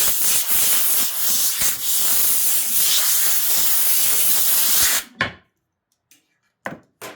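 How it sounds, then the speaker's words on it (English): An air hose blasts dust off freshly sanded wood, a loud continuous rushing hiss for about five seconds that cuts off abruptly, followed by a few short bursts. "I air hose it off."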